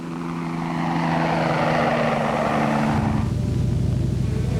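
A helicopter drones loudly overhead with a steady rotor and engine roar whose pitch drops partway through as it passes.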